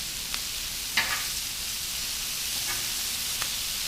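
Chicken wings sizzle steadily on a Blackstone griddle as they are flipped, a constant close hiss with a few soft scrapes and taps of the turner breaking through.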